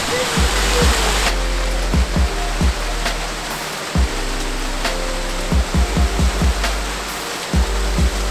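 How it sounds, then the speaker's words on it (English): Waterfall beside a snowy hiking trail near Lake Louise in Banff, a loud, steady rushing roar of falling water filling the whole scene, with a few faint knocks and thumps on top. "There's a waterfall!"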